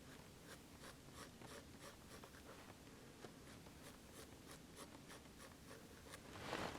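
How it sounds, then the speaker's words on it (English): Quiet, steady scratching of a pencil on paper while a small scarf is sketched for a snowman, in quick rhythmic strokes with no talk. "So I'm just going to sketch a little scarf."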